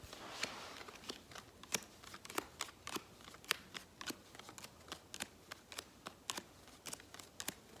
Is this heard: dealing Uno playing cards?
yes